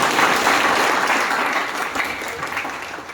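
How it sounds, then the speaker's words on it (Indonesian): A congregation at a Sunday worship service at a theology college bursts into dense, steady applause that fills the room, slowly easing off toward the end. "tepuk tangan bagi dia."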